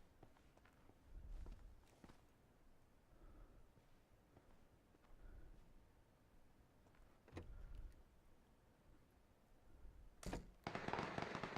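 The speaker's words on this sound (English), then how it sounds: "Lots of gunshots." Sharp, sparse gunfire-like cracks pop at intervals over a low, muffled background in PlayerUnknown's Battlegrounds, ending in a louder, denser burst of shots.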